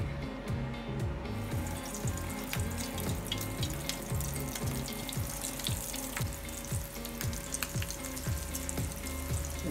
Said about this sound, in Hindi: अब हमने ये जो कबाब बनाए थे इसको फ्राई कर लेंगे।